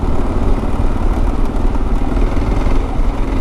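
Motorcycle engine running steadily on a shaded, well-maintained county gravel road, a continuous loud mid-range drone with rumbling clatter and no pauses.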